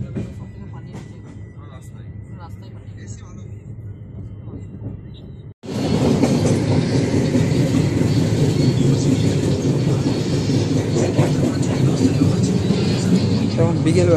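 A moving train on the railway rumbles loudly and continuously, a dense broad roar that swells suddenly after a quieter stretch and then holds steady, heard from close by as if from inside or beside the carriage.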